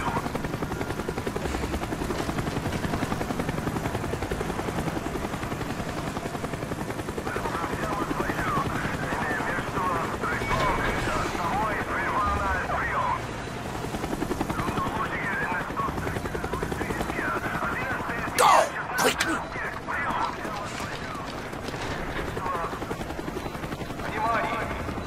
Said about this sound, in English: Avoid the helicopter spot.